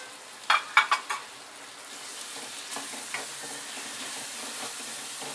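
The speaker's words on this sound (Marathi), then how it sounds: "ते आता चांगलं भाजून घ्यायचं तंबाटे चांगलं गळून गेलं पाहिजे" Two finely chopped salted tomatoes frying in a pan for paneer bhurji, a soft continuous sizzle opening with a quick burst of sharp spoon knocks against the pan, then light intermittent stirring.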